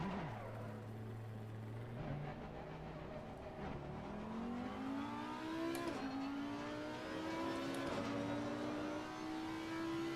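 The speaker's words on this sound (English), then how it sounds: "V10 engine, big engine" The V10 engine of an Audi R8 GT3 EVO race car in the ACC racing game revs continuously, pitch climbing through the gears with brief drops at each upshift, steady and loud with no talk.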